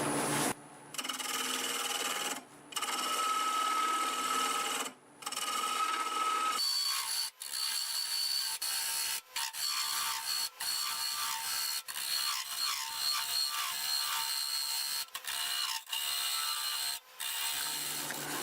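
Wood lathe spinning near 1200 RPM while a Buck Brothers small framing chisel cuts into a laurel root ball, giving a steady scraping, rubbing cut with rhythmic ticks and brief pauses, close and alone without talk.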